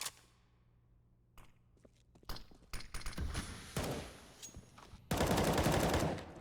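Gunfire in a Counter-Strike match on the Mirage map, with scattered single shots and short bursts building to a loud, sustained burst near the end; no talk.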